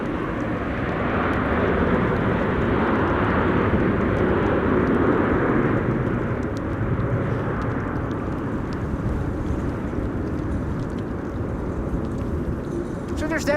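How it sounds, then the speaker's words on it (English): Jet aircraft engines rumbling steadily at Amsterdam's Schiphol Airport on a windy day, a continuous broad roar at moderate distance that slowly fades across the stretch, with people talking faintly over it. "There's definitely some wide bodies on approach as well."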